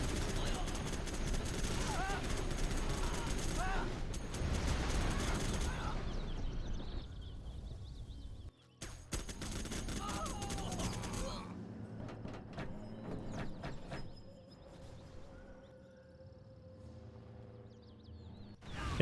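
Artillery and gunfire from a real-time strategy video game come through as dense, crackling bursts of shots and explosions under continuous commentary, thinning out toward the end with scattered impacts.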